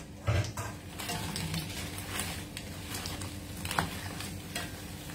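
Cooking oil sizzles and spatters in a hot pan, with a steady crackling hiss, a couple of sharper pops and faint clinks of utensils, close up and with no talk over it.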